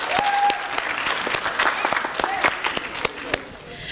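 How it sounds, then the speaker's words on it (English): A school audience at a middle school literacy event gives another round of applause for seventh graders, a dense, steady wash of clapping with a few sharper claps standing out near the microphone. "Let's give all of our 7th graders another round of applause."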